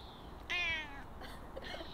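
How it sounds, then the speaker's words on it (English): A cat gives a single clear meow, close and fairly loud, against a quiet background with no talking. "Strange cat."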